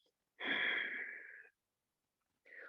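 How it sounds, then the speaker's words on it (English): A slow, breathy exhalation lasts about a second close to the microphone, followed by a shorter second breath after a silent pause, during a yoga therapy breathing exercise. "So all the toxins in the lung, first you breathe out first."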